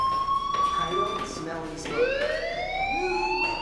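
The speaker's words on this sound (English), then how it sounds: "Hey, do you hear that fire alarm? That means you should be outside." A shrill electronic fire alarm wails in the video game Life is Strange, its tones sweeping and overlapping continuously throughout, loud and close.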